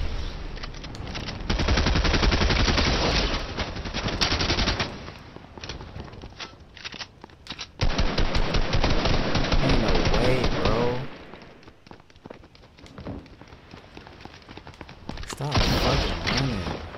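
Rapid automatic gunfire in Fortnite rattles in long loud bursts with pauses between, mixed with thumps and footsteps, while a player talks in between.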